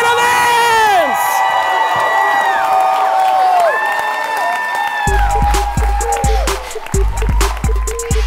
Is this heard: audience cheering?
yes